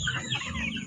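Several chickens cluck and chatter close by on a small backyard farm, with a steady low murmur of birds underneath and no talking.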